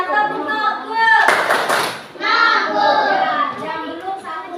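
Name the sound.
children clapping hands in classroom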